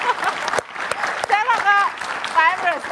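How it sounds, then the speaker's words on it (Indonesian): A television studio audience at a political talk show breaks into applause, a burst of clapping heard near and loud while a voice speaks over it. "Tepuk tangan dulu dong."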